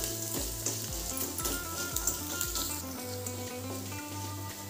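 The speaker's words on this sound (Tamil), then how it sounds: "அதுலேயே இந்த நம்ம அரைச்சி எடுத்துகிட்டு இருக்கிற விழுது எல்லாத்தையும் அதில் போட்டுடலாங்க. அதை போட்டு நல்லா மிக்ஸ் பண்ணிக்கலாம்." Ground garlic paste sizzles and fries in a pan with roasted peanuts, stirred and mixed with a spoon; a steady close hiss runs throughout, broken by rhythmic scraping strokes, with no one speaking.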